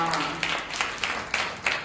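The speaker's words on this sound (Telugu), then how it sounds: "చప్పట్లు కొడితే వస్తావా?" An audience at a Bible camp puppet show claps in a few sharp, rhythmic bursts, fairly faint and mixed in with voices talking.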